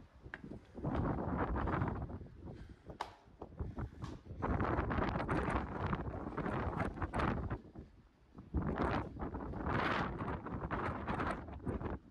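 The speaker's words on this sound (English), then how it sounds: "It's windy at the top, even though I'm in a little structure." Strong gusts of wind buffet the microphone in loud, rumbling waves atop a lookout in eastern Colorado, easing briefly before surging again, with no voices heard.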